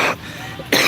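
Two sharp coughs from a person at an Indonesian street-food stall selling mie ayam, one at the start and another at the end, close and loud with a quiet pause between them.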